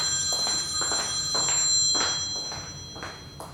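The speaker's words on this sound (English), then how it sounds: "There's the phone." A telephone bell rings in repeated short bursts, loud and close, with brief gaps between rings.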